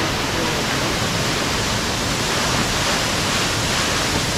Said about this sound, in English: You like a bit of a waterfall, mate?